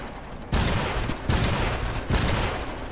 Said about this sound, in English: That bolt dropper was no match for our flak machine gun.